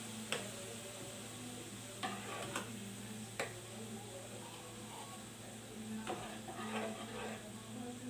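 Spoon stirring macaroni filling with flour in a pan, scraping softly with a few light taps against the metal over a steady low hum and faint sizzle.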